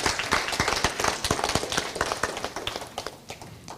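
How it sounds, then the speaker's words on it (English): An audience claps at a dinner celebration for the Buki Convention, a dense burst of hand claps that gradually thins and fades out. "Can we really clap for ourselves?"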